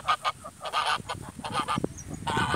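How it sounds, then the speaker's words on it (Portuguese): Repeated honking calls of ducks at a lagoon, fairly close and loud, coming in quick bursts with short gaps between them. "Olha os patos aí, ó."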